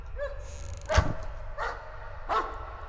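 A dog barks in the horror video game Layers of Fear, three separate barks spaced roughly half a second to a second apart, moderately loud against a low background hum.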